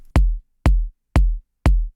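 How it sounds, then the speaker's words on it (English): An electronic kick drum for a chill house track hits four times alone in a steady beat, each thump deep, punchy and short with a clean decay. "We start with the kick here"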